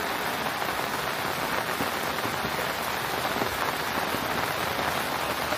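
Heavy rain pours in a coastal area at dusk, a dense, steady hiss of drops on surfaces that fills the whole stretch without letting up, close and enveloping with no voices.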